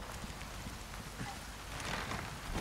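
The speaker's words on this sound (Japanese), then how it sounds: "てか雨めちゃ強っ。" Heavy rain in the video game Resident Evil 4, near a lake: a dense, constant downpour hiss with scattered drops, faint and steady, swelling slightly toward the end, with no talking.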